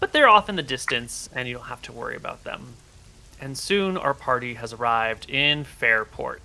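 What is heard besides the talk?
No everyday noise stands out behind the speech.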